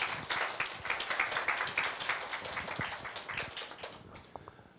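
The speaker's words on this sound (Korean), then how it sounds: "큰 박수로 맞아 주시기 바랍니다." Audience applause at a Korea University graduate school of international studies admissions information session, welcoming the dean to the stage. Moderate, dense clapping with a few louder claps on top. It fades over about five seconds.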